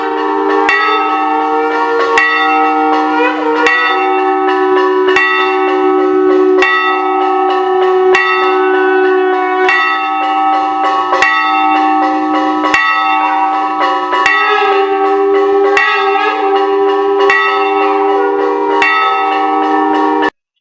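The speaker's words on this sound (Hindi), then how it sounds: "सुबह और शाम जब भी मंदिर में या पूजा आरती होती है तो एक लय और विशेष धुन के साथ घंटियां बजाई जाती है।" Metal temple bells ring loud and close during a Hindu puja, struck repeatedly in a steady rhythmic pattern, their overlapping tones sustaining continuously for about twenty seconds.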